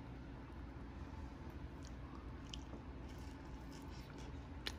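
Someone bites into and chews avocado toast topped with creamy Reed avocado, the soft crunch and squish faint and close against a steady low background hum.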